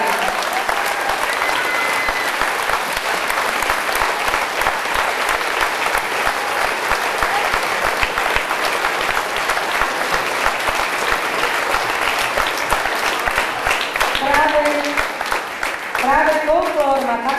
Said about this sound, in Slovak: Takže potlesk pre všetkých, ktorí nám pomohli a pomáhajú.